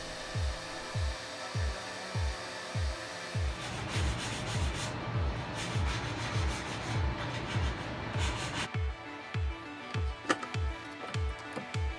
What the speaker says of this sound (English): Then I sanded both parts of the face and covered it with a poly varnish.